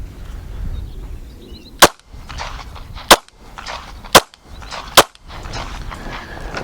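Four sharp, loud pistol shots at uneven intervals during a shooting drill, each a crisp crack with quiet range ambience between them.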